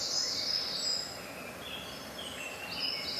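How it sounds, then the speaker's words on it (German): Birds sing in a forest, with thin high chirps and warbling scattered over a steady bed of wooded ambience, faint and distant, with no talking. "Vielleicht hören ihr ja die Vögel da."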